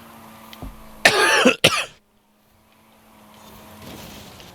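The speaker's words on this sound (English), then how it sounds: "Still recovering from COVID, still with this cough." A person still recovering from COVID coughs in two loud, harsh bursts close to the mic, the first longer and the second short, followed by near silence and then a faint rising background hum.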